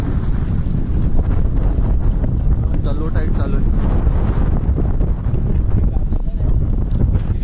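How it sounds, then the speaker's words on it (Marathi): Strong wind buffets a fishing jetty, a constant heavy roar with gusting noise filling the whole clip while someone talks over it. "वारा आहे जास्त."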